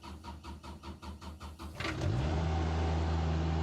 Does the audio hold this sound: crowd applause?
no